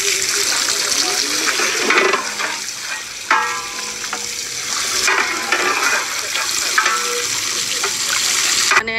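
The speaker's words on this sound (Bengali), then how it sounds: "এই যে মাংস এখন পাতিলাই পাতিলাই রেখে ধোয়া হচ্ছে।" Meat is washed in cooking pots, with water sloshing and splashing and metal pots scraping and clanking in a busy outdoor cooking setting, while people talk nearby.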